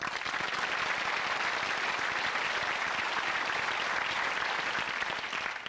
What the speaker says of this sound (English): Deserved applause too.